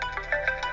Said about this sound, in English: so this would be my new ringtone